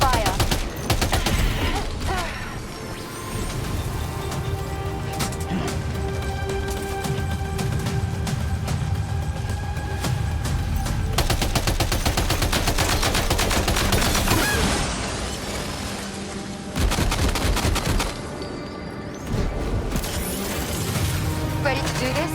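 Gunfire in the PS5 game Death Stranding 2 rattles in dense, loud bursts and rapid automatic volleys for a long stretch, with short gaps and a few heavier crashes.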